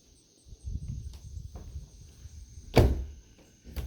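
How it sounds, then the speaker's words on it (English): A bedroom door in a house is swung shut with a firm thunk, after a few softer creaks and bumps of handling. There is no talking. "we shut this door."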